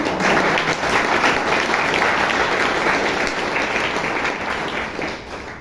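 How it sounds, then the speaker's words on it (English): A Toastmasters audience in Bangalore breaks into sustained applause, dense even clapping from a full room holding steady for about five seconds before easing off at the end. "Give him a big round of applause."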